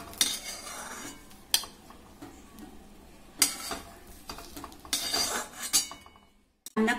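A metal utensil scrapes and clinks against a pan while fried eggs are lifted out one at a time, with sharp separate clatters between short pauses.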